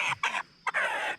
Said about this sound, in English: I think that's a hen.